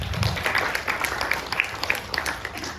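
A congregation at a prayer fellowship service claps hands together, producing a dense, steady patter of overlapping claps from a nearby crowd that continues without pause.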